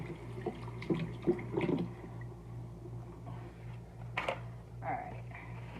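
Tap water runs over raw duck legs at a kitchen sink in a steady, moderate rinse. Splashes and squishes come and go as the meat is handled, with a low hum throughout.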